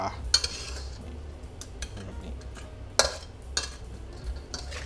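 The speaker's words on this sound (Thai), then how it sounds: "ใส่ปลาลงไปเลย แล้วก็คลุกๆนะครับปลา" Fried tilapia tossed in a pan with chili salt, metal utensils scraping and clinking against the pan in irregular strokes, with a few sharper clanks over a low steady background.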